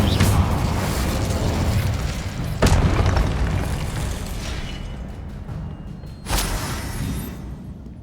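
Incendio fire spell in Hogwarts Legacy, a loud, deep booming blast followed by a long rumbling roar, a second sharp burst a few seconds later, and a fading, crackling tail.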